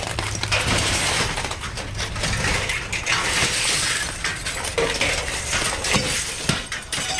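Broken glass crunching and clinking underfoot inside a dumpster full of discarded glass, a dense continuous crackle of shards shifting and grinding close to the microphone for several seconds.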